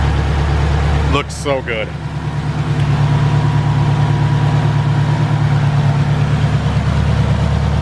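Built turbo K24 engine idling in an all-wheel-drive Honda Civic sedan, a steady low rumble heard close up while a person briefly speaks over it.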